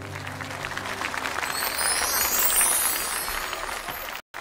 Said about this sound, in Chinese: 哇， 掌声。